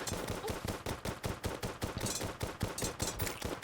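Rapid gunfire in the video game Terraria, a fast, even stream of sharp shots repeating several times a second throughout, loud and continuous with no talk over it.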